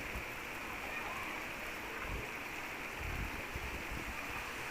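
Steady rain falls over farmland in a village, a dense, even wash of drops with slightly heavier patches, close and continuous with no talk.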